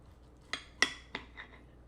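Knife and fork cutting into a bacon-wrapped roll cooked in an air fryer, giving four short clinks and scrapes spaced about a third of a second apart, close and fairly quiet with no talking.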